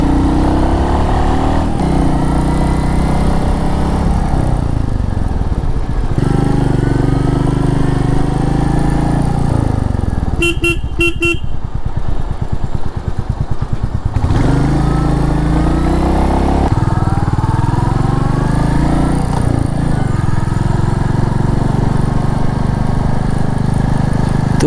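A Royal Enfield Meteor 350 motorcycle engine thumps close and loud on a rough, broken road, its pitch rising and falling with throttle changes and briefly dipping before the steady rumble resumes.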